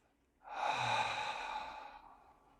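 One slow, deep breath in a calm yoga class setting, heard as a single soft, airy breath that swells and then trails away over about a second and a half, close and quiet with no talking.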